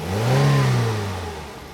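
A race car engine revs up in one smooth, loud rising and falling whine that swells near the start and slowly tapers off.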